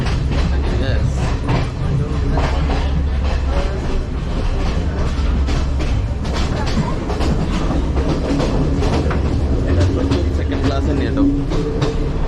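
A luxury train runs from Ella to Kandy in Sri Lanka, heard from inside the carriage as a loud continuous low rumble with rhythmic wheel clatter and rattling, steady throughout.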